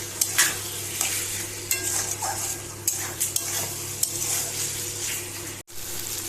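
Potatoes and cauliflower fry in a pan of hot oil, sizzling steadily while a utensil stirs and scrapes them in repeated strokes, with occasional light clinks against the pan.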